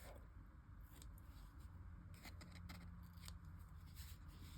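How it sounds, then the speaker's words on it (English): Quiet snipping and scraping of ribbon scissors trimming ribbon, a few short cuts clustered in the middle, over a low steady background hum. "I'm going to use my ribbon scissors to trim that off"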